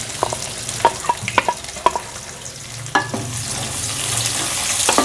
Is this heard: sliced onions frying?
yes